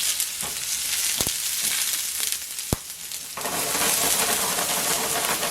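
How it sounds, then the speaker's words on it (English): Loud, continuous sizzling of onions hitting a hot pan, a few sharp clicks early on, then the hiss swells and stays bright and close. "You gotta hear that sizzle or else it's not hot enough."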